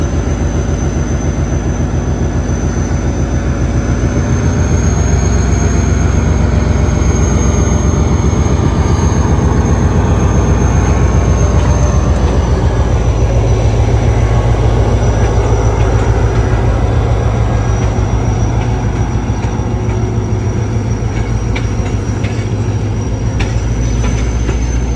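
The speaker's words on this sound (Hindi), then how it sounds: "और ये मूव होना शुरू कर दिया ट्रेन ने।" A train pulls out of Drigh Road railway station, a loud, steady rumble of rolling wagons with rhythmic wheel clatter and occasional high squeals from the rails, continuous and close throughout with no talking.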